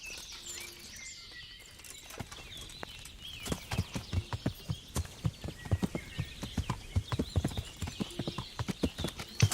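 Horse hooves clip-clop at a steady trotting rhythm while riding in Kingdom Come: Deliverance, the strikes starting sparse and then growing even and distinct over a soft ambient background, with no talk.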